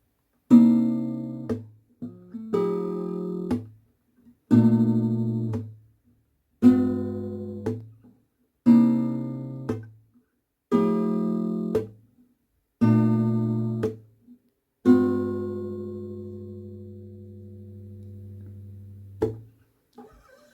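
Eight finger-picked guitar chords from a song ring out one after another in a steady rhythm, the last held and left to decay, with no talking.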